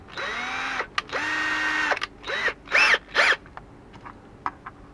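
A drill, run by hand rather than on a drill press, bores into an 80mm cooler fan during a swap of its sleeve bushing for a bearing. It gives a long whining run, then several shorter, rising bursts, loud and close.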